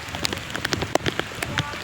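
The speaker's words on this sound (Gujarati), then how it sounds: "જો ખાલી વરસાદ ચાલુ થઈ ગયો" Steady rain patters on a hard surface, with scattered drops landing close by and no voices.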